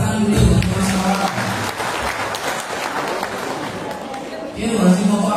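Applause and clapping from a crowd at a Halal Bihalal gathering for Idul Fitri, a broad steady wash of hands that fills the clip, with voices talking over it near the start and end.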